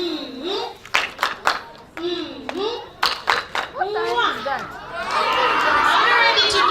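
Children at an outdoor Universal Children's Day celebration clap in a rhythmic pattern of quick hand bursts, with an adult leading and kids' chatter between claps, swelling into continuous clapping and cheering at the end.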